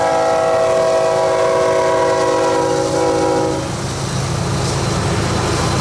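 Freight train rolling past a junction with its horn sounding loudly in long sustained chords for about three seconds, then fading into the rumble and clatter of passing cars, with no voices.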